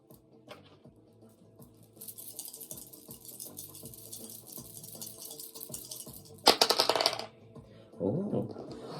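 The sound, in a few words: dice being rolled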